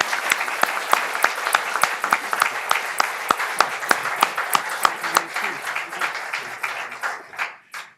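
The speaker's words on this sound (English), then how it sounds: "Let's give Doug a really big round of applause." Audience applause at an environmental stewardship awards ceremony, a loud burst of many hands clapping with sharp individual claps standing out, steady for several seconds before tapering off at the end.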